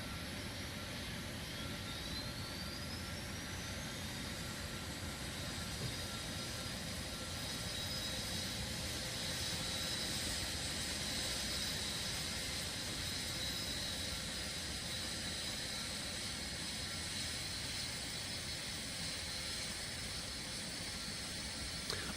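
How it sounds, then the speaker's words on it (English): Right Rolls-Royce engine of a Boeing 777 starting in the X-Plane 12 flight simulator, a low steady whine and rumble that slowly builds with a faint rising tone, heard alone. "let's listen to the engine sound"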